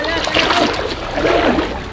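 Splashes as something drops into a shallow stream during a river crossing, two close, loud watery bursts under excited talk.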